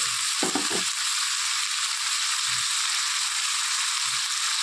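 Chicken frying with onion paste added, a steady bright hiss of sizzling throughout, with a few low knocks near the start and faint thuds later.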